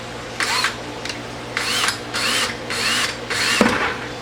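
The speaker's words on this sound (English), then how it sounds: "I've measured them out around the bucket, and we're going to drill them out." Power drill boring holes through a plastic bucket while making air-pruning pots, several loud whirring bursts of about half a second each separated by short pauses, with a knock near the end.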